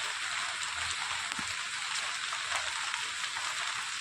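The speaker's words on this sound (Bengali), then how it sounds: "আর বৃষ্টি বন্ধুরা কি বলবো সেই সকালে নেমেছে" Steady rain falling, a dense, even hiss that stays constant throughout with no pauses, with a few faint low thumps underneath and no voices.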